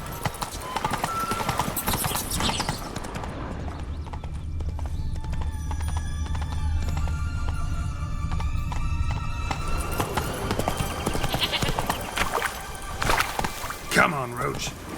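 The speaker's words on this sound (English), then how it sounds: "Run, Roach." A horse gallops in The Witcher 3, with rapid clip-clopping hooves and a whinny over a busy game soundscape.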